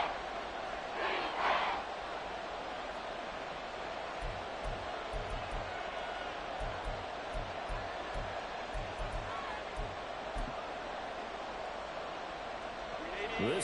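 Stadium crowd at an NFL divisional-round football game between the Chargers and Kansas City, a dense continuous roar of cheering and noise filling the background throughout while a commentator talks over it.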